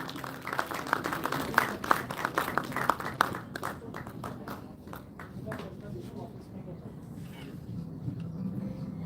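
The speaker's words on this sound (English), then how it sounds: "A big round of applause for our respected Dean Engineering Sir," Audience applause for a dean at an engineering college event, steady clapping from a crowd that is loudest early and then thins out toward the end.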